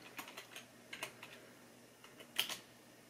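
Keys clatter on a computer keyboard as a short command is typed in small bursts of quiet, close taps, with one louder keystroke near the end.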